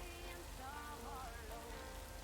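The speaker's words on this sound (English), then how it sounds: "I like that it's raining in the game" Steady rain in the video game Lake patters on surfaces as a soft, even hiss that holds constant throughout, faint and with no talk over it.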